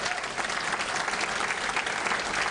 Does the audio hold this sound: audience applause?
yes